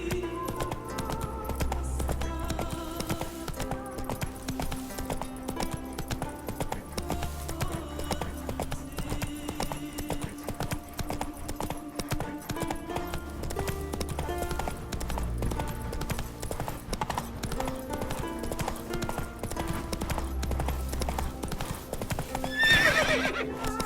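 A horse gallops in The Witcher 3 video game with steady rhythmic hoof clip-clops, a whinny and a rider's shout, over continuous orchestral game music throughout.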